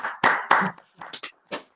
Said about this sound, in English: let's have the usual round of applause virtually